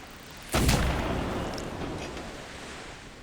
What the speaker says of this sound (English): I accidentally double-clicked one of the cannons and it fired.